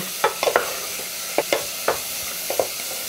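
Chopped vegetables and a clove of garlic being stirred as they sauté in a pan, with soft scraping stirs recurring in short clusters over a low background sizzle.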